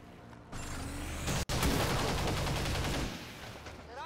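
A squad's weapons firing in the video game XCOM 2, a sustained loud volley of rapid rattling shots with a sharp crack near the middle, then fading out. No voices are heard.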